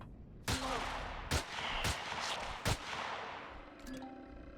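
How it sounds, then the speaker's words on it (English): A combat shotgun in Empyrion Galactic Survival fires four sharp, separate blasts spaced about a second apart, each with a short ringing tail over low ambient hum. "Combat shotgun."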